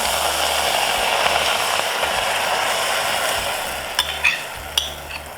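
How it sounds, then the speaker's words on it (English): Blueberries being stirred in a small-to-medium saucepan make a continuous soft hissing, scraping sound, with a few sharp clicks of the utensil against the pan near the end. "using a medium size or small to medium size saucepan, we are adding the blueberries"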